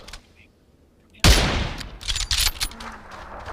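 Video game gunfire bursts in suddenly after a quiet start, with a loud crack followed by several rapid shots and echoes, under faint player talk.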